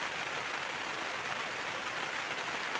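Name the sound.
heavy rain in Torrevieja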